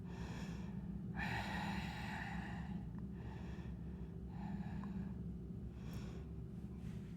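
Slow, deep breaths taken while holding the Bird of Paradise yoga posture, several long airy inhales and exhales at close range over a constant low background hum, with no talking.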